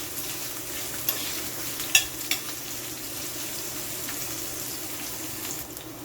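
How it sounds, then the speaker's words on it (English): Quiet, steady sizzling of food frying in a pan for corned beef and rice, with a couple of soft clinks of a utensil partway through. "Now while that is frying"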